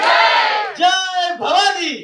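A crowd of students at a Shivaji Jayanti celebration in a journalism college roars a victory slogan for Chhatrapati Shivaji Maharaj, loud massed voices in three rising and falling surges, close and alone.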